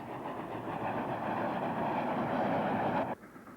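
A steam train labors up the Lickey Incline near Bromsgrove, pushed by a pair of banking engines, heard at a distance: a steady rumbling roar with rhythmic chuffing that cuts off abruptly near the end.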